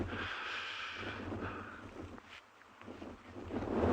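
Biting wind during a live morning safari in South Africa buffets the microphone as a continuous rough rumble, gusting up and down with brief lulls and swelling louder at the end, close and unbroken.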